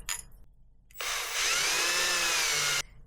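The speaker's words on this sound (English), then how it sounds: "I did not need to drill it that deep." A power drill with a tiny bit bores into a wooden fishing lure in one steady, whining burst of nearly two seconds, close and loud, with quiet before and after.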